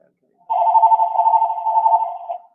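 A telephone gives one steady electronic ring lasting about two seconds, loud and close in an otherwise silent room.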